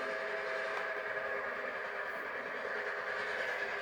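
A model work train runs along layout track, giving a steady whirring hum that stays even throughout, with no voices.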